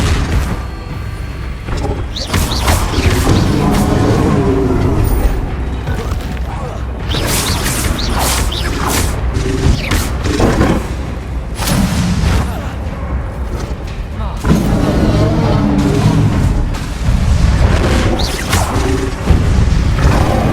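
Bombarda and Confringo spell explosions in the video game Hogwarts Legacy, repeated loud booms, crashes and whooshing blasts in quick succession amid combat noise, with a voice calling out between hits.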